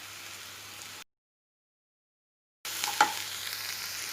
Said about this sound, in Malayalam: അപ്പോൾ അതും കൂടി ഇതിൻ്റെ ഒപ്പം ചേർന്ന് വഴറ്റിയെടുക്കണം